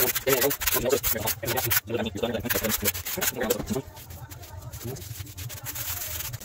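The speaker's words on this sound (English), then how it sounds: "I like to use a lot of thinset and just saturate this membrane with thinset." A trowel scrapes and spreads a heavy layer of thinset across a Schluter shower tray membrane in close, rough, rhythmic strokes, with a voice talking over part of the work.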